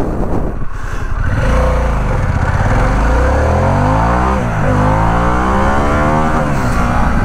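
A 2021 Harley-Davidson Pan America adventure motorcycle accelerating hard from a standstill to sixty, loud close engine climbing through several gears with rising pitch sweeps and brief dips at each shift, with no talk.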